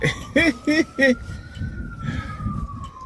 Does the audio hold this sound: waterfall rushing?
no